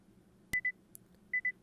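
An alarm in the Muv-Luv Photonmelodies visual novel chirps in two quick pairs of clean, high electronic beeps, separated by a short click over quiet background, with no talking.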